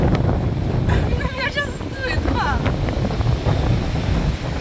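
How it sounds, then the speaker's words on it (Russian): Strong wind roars and buffets the microphone with crashing surf beneath during a sea storm at Arkhipo-Osipovka, while voices speak over the gusty, continuous din. "да, ветер сильный, ребят, и шторм шторм, сильный ветер"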